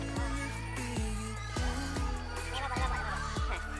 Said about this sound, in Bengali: রাজহাঁস আছে, অনেক রাজহাঁস।